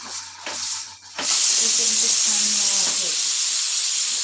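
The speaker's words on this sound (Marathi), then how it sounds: "साईडला कुकर पण लावलेला आहे" A pressure cooker on the stove lets out a loud, continuous steam hiss that starts abruptly and then holds steady. A voice is heard briefly just before the hiss begins.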